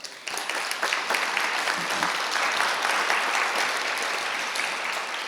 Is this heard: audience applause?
yes